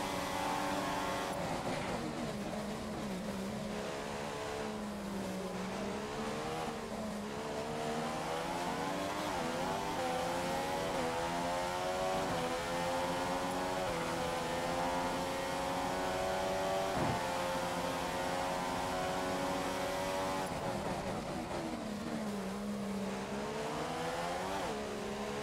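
A Formula 1 race car engine in the video game F1 2015 at the Abu Dhabi Grand Prix wails continuously at high revs, its pitch sweeping up and down through gear changes, loud and alone for the whole stretch.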